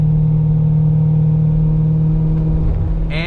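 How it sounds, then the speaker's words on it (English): Corvette C6 Grand Sport with its exhaust valves open while driving in winter: a loud, continuous, deep engine drone up close, building slightly near the end and briefly joined by a higher whine. "you can probably hear me again now that the exhaust isn't ripping in your ear"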